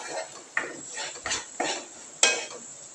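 Onion with turmeric and coriander-cumin powder is stirred in a pan, with a few separate sharp scrapes and clanks of the spoon against the metal over a faint sizzle.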